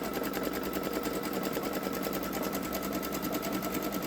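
A Babylock Solaris Vision embroidery machine stitches a large appliqué patch on no-show mesh, its needle hammering in a fast, steady rapid-fire rhythm, close and continuous with no talk.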